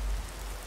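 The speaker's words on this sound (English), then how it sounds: "This rain make for a most beautiful combination." Steady rain falling in a Skyrim town, a soft even wash of patter with no distinct drops standing out, faint and continuous throughout.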